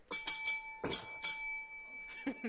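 A bell is struck several times in quick succession, bright ringing tones with lingering overtones, then another strike near the end, fairly close in a quiet room.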